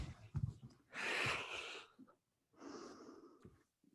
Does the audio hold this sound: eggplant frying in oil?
no